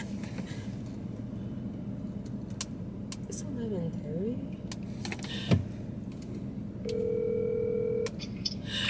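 A phone call's ringing tone sounds near the end, a steady electronic beep heard inside a car over engine and road rumble, with a few clicks and knocks before it.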